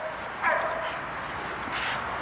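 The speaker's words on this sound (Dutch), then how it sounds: "Die bijt echt goed die hond." A Belgian Malinois biting during bite work, giving a short whining yip over a steady rushing background hiss, fairly faint and distant with no clear speech.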